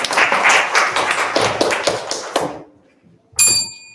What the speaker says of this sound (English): And everybody, let's give applause for Jeffrey.